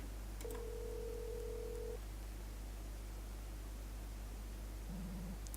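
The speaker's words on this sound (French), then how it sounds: "On pourrait appeler un appel d'urgence le 911." Telephone line tones from a phone dialing an emergency number in a video game: a long steady tone, then a short warbling ring tone near the end, over a constant noisy hiss.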